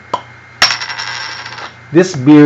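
A Hangar 24 double IPA bottle is opened with a sharp snap, followed by a bright metallic ringing that fades over about a second; a voice starts talking right after.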